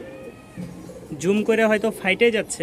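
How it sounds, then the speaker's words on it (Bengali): Rajshahi Giribaz pigeons cooing, first a soft low coo alone, then louder overlapping throaty calls close by while someone talks over them. "দেখছেন প্রতিটা কবুতর তার ডাক দিয়েই রাজশাহী গিরিবাজের পরিচয় দিচ্ছে।"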